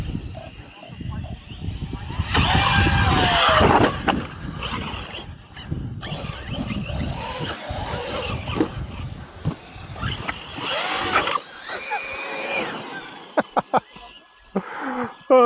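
Several 6S RC cars, among them an Arrma Notorious, Arrma Kraton and Hobao 8SC, racing and skidding together: a loud, continuous whining and grinding of motors and tyres with scrabbling surges, close by, under excited shouting voices.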